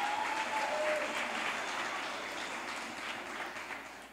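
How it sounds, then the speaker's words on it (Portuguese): A church congregation at a Portuguese-language worship service claps in sustained, dense applause that fills the room and gradually fades a little. "Pode aplaudir."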